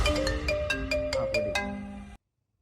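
A mobile phone ringtone for an incoming call plays loud and close, a repeating melodic pattern of bright tones that cuts off abruptly after about two seconds.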